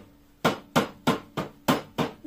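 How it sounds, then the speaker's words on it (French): A mallet delivers six even, firm taps in a steady rhythm to loosen a cylinder on a disassembled engine, each knock sharp and close with a short decay. "Maintenant, un petit coup de maillet pour"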